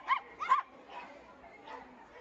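Small pet dogs at a dog market yip and bark a few times in quick succession, then a softer whimpering bark follows, fairly faint amid the crowd's background noise.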